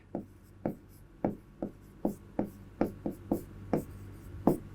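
Pen or chalk writing out maths during a Class 10 lesson, a dozen short distinct strokes in an uneven rhythm, close and fairly quiet, with no talk.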